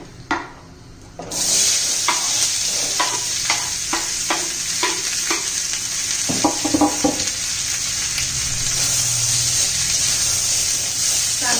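Sliced onion frying in a pan for mutton masala: a steady loud sizzle starts after a short quiet opening, with repeated scraping stir strokes and clinks of a spoon against the pan, no voices.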